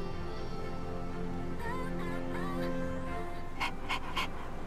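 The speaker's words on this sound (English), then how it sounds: "What a smart dog!" Koromaru, the dog in Persona 3 Reload, pants softly over steady game music, ending in three quick breathy bursts near the end.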